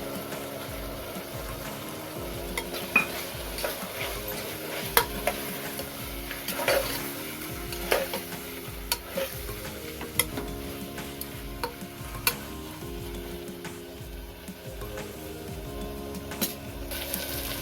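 Sprouts being stirred in a frying pan after tomatoes for a pulao, with repeated scraping and stirring strokes over a low continuous sizzle, close up and steady with no talk.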